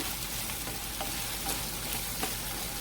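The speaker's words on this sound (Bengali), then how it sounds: "এবারে চালটাকে আর কিমাটাকে একটু ভেজে নিলাম" Rice and minced meat frying together in a pan, a dense steady sizzle with faint stirring scrapes throughout, close and continuous.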